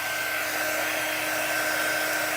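A hair dryer blows steadily to dry a chalk paint transfer, a loud, continuous whooshing hum with a faint whine, close by and unbroken, no talking.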